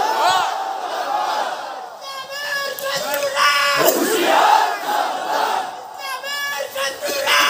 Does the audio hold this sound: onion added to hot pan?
no